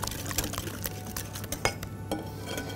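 Ricotta and eggs being whisked together in a bowl, giving a steady run of close, scraping stirs with small clinks of utensil against the bowl and no talking.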